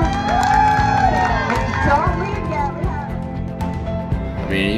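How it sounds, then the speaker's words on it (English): A crowd cheers and claps for a youth team of off-road motorcycle racers at the 2021 Vegas to Reno race, loud, close and continuous, with shouting voices and a sustained tone running underneath. "Give them a round of applause."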